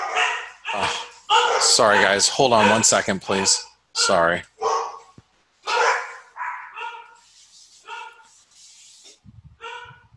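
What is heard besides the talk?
dogs barking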